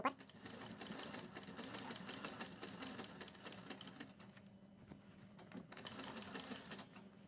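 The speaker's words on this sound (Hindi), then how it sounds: "नेक के हमें ऊपर की तरफ सिलाई लगानी है, बुकरम के ऊपर।" A sewing machine runs steadily close by, stitching along a kurti neckline over buckram with a continuous rapid mechanical rattle. It slows briefly midway, and faint talk sits underneath.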